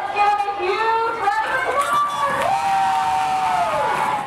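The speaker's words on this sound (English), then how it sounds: "So let's give a huge round of applause!" Middle school students at an award presentation cheer, whoop and shout in a loud, lively burst, with excited young voices rising above the crowd noise for several seconds before it eases off at the end.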